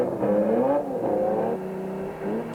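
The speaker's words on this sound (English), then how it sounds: "The delectable Ferrari 250, one of the stars of the show in terms of looks and sound." A Ferrari 250 engine revs at a classic car marathon rally, loud and close, with rising and falling pitch as the throttle opens and eases, alone without talk.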